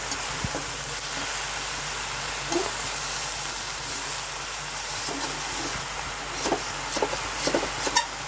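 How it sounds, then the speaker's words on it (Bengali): Chopped Malabar spinach frying with salt in a pan, a steady hiss and sizzle throughout, with soft scraping and stirring knocks coming more often toward the end. "একটু নাড়াচাড়া করে মিশিয়ে নেব।"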